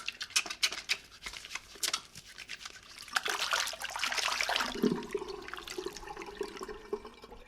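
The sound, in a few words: water dripping through the ceiling in a video game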